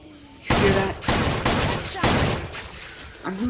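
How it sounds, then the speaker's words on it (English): Gunfire in the SixthSense video game, a few loud broadband bursts of shooting in quick succession, each cracking and fading into the next, with faint game sounds between them. "I'm really bad at shooting"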